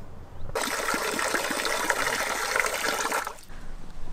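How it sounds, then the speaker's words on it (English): Water gushes from an outdoor park tap at a campsite in Greece, starting abruptly, running as a strong steady splashing stream for about three seconds, then cutting off. "I love these taps here. It's such a great place to get a wash."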